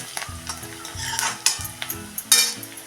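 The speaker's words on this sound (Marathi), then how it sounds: "मऊ पडेपर्यंतच फक्त परतून घ्यायचं आहे बघा एक दोन मिनटं परतल्यानंतर कांदा बऱ्यापैकी मऊ पडलेला आहे" Chopped onion softens in a pan, a close sizzle punctuated by several sharp spatula scrapes and clinks against the metal, with no talking.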